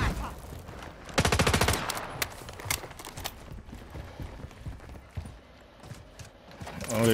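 Rapid automatic gunfire rattles in a battle royale video game, a loud sustained burst early on, then scattered quieter shots and game noise continue.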